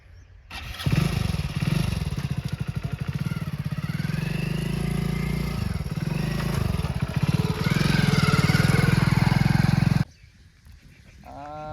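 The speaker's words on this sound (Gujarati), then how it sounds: "બાઈક તો આવી ગયું" A newly bought motorcycle's engine runs close by with a steady, throbbing rumble that rises slightly as it revs, then cuts off abruptly after about nine seconds, leaving quiet background.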